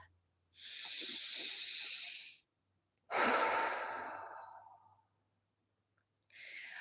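A deep, slow breath taken during an EFT tapping session: a long airy inhale, a pause, then a long hissing exhale, close and alone, with the start of another breath at the end.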